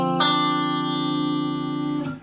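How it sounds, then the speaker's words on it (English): A single chord on a Fender Elite Strat electric guitar through the bridge and middle pickups together, struck once and sustaining evenly for about two seconds before being damped, with no voices. "Here's the bridge and middle."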